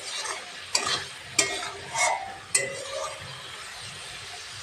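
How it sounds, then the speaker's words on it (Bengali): Garam masala powder is stirred into a simmering taki fish curry in a pan, a soft sizzle punctuated by several sharp spoon knocks and scrapes against the metal. "আর এখন দিচ্ছি গরম মশলার গুঁড়ো। ভালো করে মিশিয়ে নিচ্ছি।"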